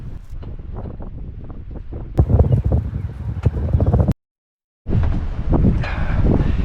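Strong gusting wind buffets the microphone at a boat's anchorage near the Pitons, St. Lucia, loud and rumbling with rising gusts. It cuts to silence briefly, then returns just as hard.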